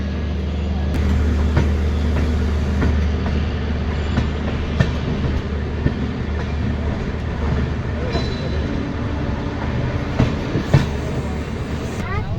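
The Gour Express train rolls along after leaving Farakka, a steady loud rumble with rhythmic clattering of wheels over rail joints, heard from inside a general coach.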